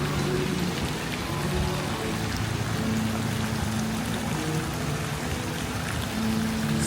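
Water splashing from a fountain with elephant statues in a hotel courtyard, heard as a steady, dense, rain-like rush that fills the whole stretch at an even level, with a faint low murmur beneath.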